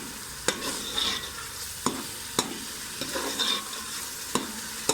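Sliced tomatoes frying in a pan are stirred, a soft sizzle running underneath while a spoon knocks and scrapes against the pan in sharp, evenly spaced taps roughly every half second to second, with no talking.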